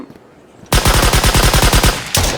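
Gunfire in the video game Far Lands after a short quiet lead-in: a rapid, evenly spaced burst of about a dozen loud, close shots, then one more shot right after.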